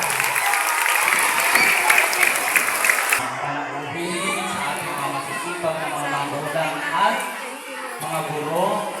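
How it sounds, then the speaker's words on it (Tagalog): Loud, dense applause with some cheering fills the room at a Buwan ng Wika 2024 school program in the Philippines, then eases into lighter clapping as crowd chatter and a voice carry on beneath it. "isang malakas na palakpak para kay Dr. Jerwin Vinoria."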